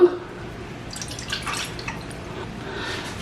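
About 500 ml of water is poured into a cooking pan while making rava idiyappam, giving a short close splash and trickle with light dripping sounds.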